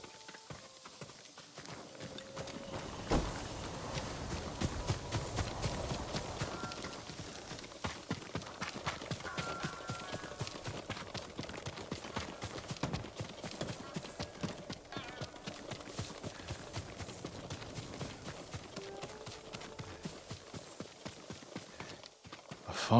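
Horse hooves clip-clopping in Ghost of Tsushima, a steady walking rhythm of hoof strikes on the ground, close and continuous over game ambience, with a short stretch of louder trotting early on.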